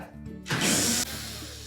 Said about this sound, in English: we're next going to remove 3 screws that secure that main top